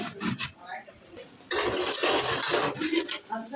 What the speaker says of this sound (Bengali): আবার আমি ডাকনা দিয়ে ডেকে দিচ্ছি